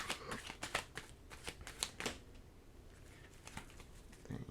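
Oracle cards are shuffled close up, giving a run of quick papery riffles and flutters that slow into a quieter pause before a few final card snaps, with no speech over them.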